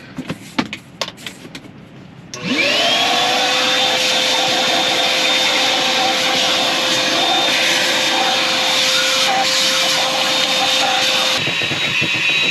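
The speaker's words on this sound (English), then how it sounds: "I'm going to vacuum right now" A vacuum cleaner starts up after a few seconds of shuffling and runs loud and steady with a high whine inside a flatbed truck's cab, then cuts off near the end.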